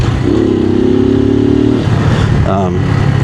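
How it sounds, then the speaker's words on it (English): Suzuki TU250x single-cylinder motorcycle engine holds a steady rumbling drone, then the revs drop as the throttle is cut for a downshift, with someone talking close over it. "Do the same thing by cutting the throttle. Shift down."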